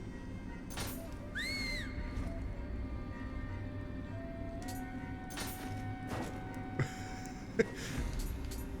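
A short whistled call from a character's emote in the video game Nioh, with a rising and falling tune, played once over a steady low hum of game background ambience.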